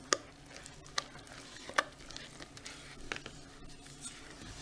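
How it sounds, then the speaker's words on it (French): An onion mixture of red or yellow onion or shallot for a sun tart is stirred in a bowl, giving faint soft scrapes and a few sharper taps against the side. "On mélange un petit peu."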